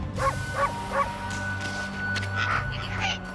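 A dog in the Okami video game gives three quick yipping barks close up, followed by softer whimpering yelps over a low game background.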